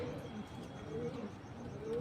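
Injured Khatang pigeon gives faint, low cooing notes in a short soft sequence against a quiet room background, with no talking.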